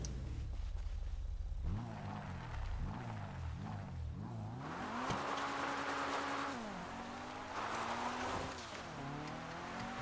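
A Mitsubishi Lancer Evo 9 in GTA V revs hard through several quick rising and falling throttle blips, then climbs into longer high-pitched engine pulls with gear shifts. A turbo blow-off valve vents in between. The engine sits loud and close, with no talking.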